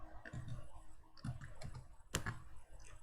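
Quiet clicks of a computer keyboard as a few keys are struck at a Windows command prompt, sparse and irregular taps with one sharper keystroke near the end.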